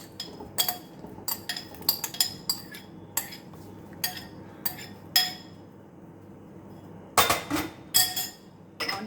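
Chickpeas are added into a bowl for a salad, with a series of light clinks and taps against the bowl at uneven intervals and a brief louder cluster of clatter near the end.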